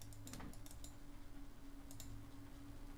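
Quick bursts of computer keyboard typing, a few sharp key clicks near the start and again briefly later over a quiet low hum, with no talking.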